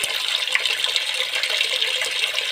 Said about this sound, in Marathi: बघा पाणी कसं जाते खळ खळ खळ खळ खळ पूर्ण पाईप घेऊन जाते